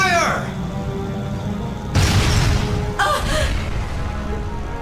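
Cannon fire booms out in Trails of Cold Steel, with two loud broadband blasts roughly a second apart, each followed by a rumbling decay over a dim background.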